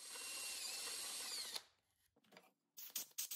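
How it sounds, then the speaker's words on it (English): A power tool chamfers the edge of a wooden piece, giving a loud, steady high whine for about a second and a half before it cuts off, followed by a few short knocks and scrapes close by. "And I can chamfer this edge so it'll engage easier."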